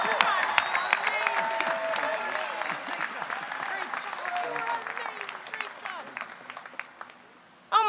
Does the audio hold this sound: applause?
yes